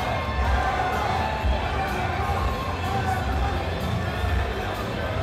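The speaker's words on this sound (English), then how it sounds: "what a crowd" A boxing arena crowd roars and cheers continuously, a dense, loud wash of voices filling the hall without letting up.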